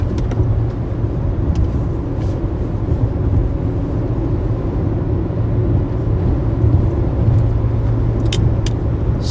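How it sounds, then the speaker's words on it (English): A vehicle rolls over a very bumpy road in northeast South Dakota during severe weather, heard from inside as a loud, continuous low rumble with road noise and occasional faint ticks, and no talking. "The road's very bumpy here. I can't hold anything still."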